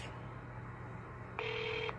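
A touch-tone telephone keypad sounds a single short dial tone burst, clear and near, over quiet low background hum, with no talking, as star 6-7 is dialed.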